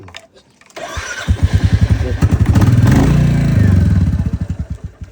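A Royal Enfield motorcycle started without a key: its engine cranks, catches and settles into a loud, steady thumping idle close by, with a few sharp clatters at the start.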